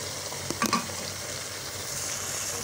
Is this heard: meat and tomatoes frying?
yes